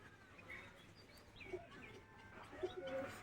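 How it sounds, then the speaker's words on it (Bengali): A female pigeon coos softly in a few brief, low calls against quiet background noise. "এটা মাদি পায়রা"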